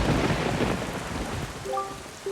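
Rain and rolling thunder on a cursed island under dark clouds in The Legend of Zelda: The Wind Waker HD, a steady downpour with low rumbles, and a few short musical tones near the end.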